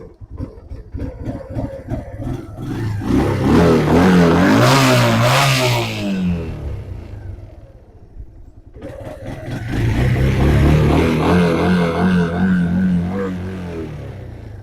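A cheap used quad ATV engine runs steadily and loudly at close range after its fuel is switched on. The revs rise, drop briefly, then climb again with a mid-pitched clattering drone.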